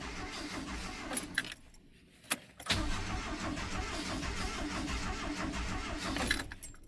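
A long-parked 1984 Dodge Mini Ram engine cranks on a weak jump box: a grinding crank, a brief near-silent pause, then steady continuous cranking, close and fairly loud, with keys jangling.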